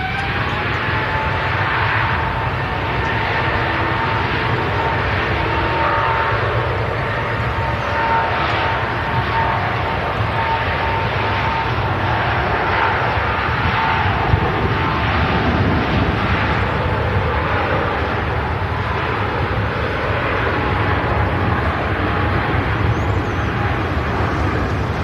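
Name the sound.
airliner taking off on a flight to Singapore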